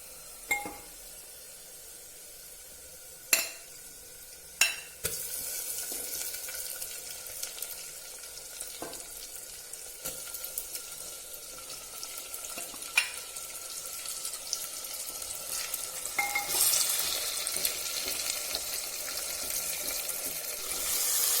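Chicken pieces go into a pot of browned onions for pot biryani: a few sharp clinks and knocks, then frying sizzle that builds steadily louder, with occasional utensil taps against the pot.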